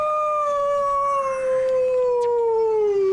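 Dog in a video game letting out a long, sustained howl that slowly falls in pitch, loud and close, with no talking over it.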